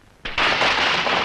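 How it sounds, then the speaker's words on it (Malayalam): A firecracker is lit and bursts into a loud, sustained crackling blast that starts abruptly and keeps roaring close by for over a second. "പടക്കത്തിന് തീ കൊടുക്കാൻ മതി"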